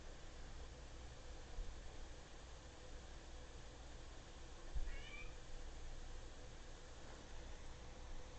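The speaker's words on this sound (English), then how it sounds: "Portia's back here meowing at me" Portia, a pet cat, lets out a single faint meow from a little distance, heard once against a steady hiss of background noise.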